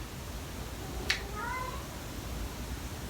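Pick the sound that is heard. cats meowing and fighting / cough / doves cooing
cats meowing and fighting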